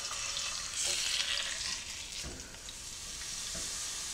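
A chuck roast, seasoned with salt and pepper, sears in hot oil in a pan, giving off a steady close crackling sizzle with occasional louder pops and spatters and no voices.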